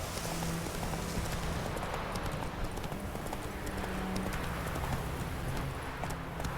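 A horse gallops in the video game The Witcher 3, its hooves pounding in a fast, continuous clip-clop rhythm over a steady hiss of rain and ambient noise.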